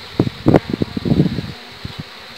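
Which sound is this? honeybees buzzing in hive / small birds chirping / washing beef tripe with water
honeybees buzzing in hive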